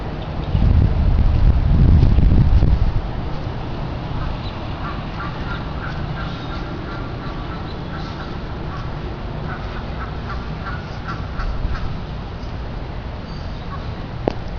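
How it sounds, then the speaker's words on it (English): Ducks on a rural duck pond, scattered quacks heard over steady wind noise, with a loud rumbling gust near the start; the calls stay fairly distant and faint throughout. "The duck pond."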